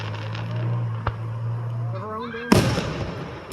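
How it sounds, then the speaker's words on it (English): Fireworks rockets burst at a Fourth of July show, a whistling rise followed by a sudden sharp bang and crackling fade, heard with low steady background noise and some nearby talk. "Sounds kind of like Tom Ravenclaw's rockets."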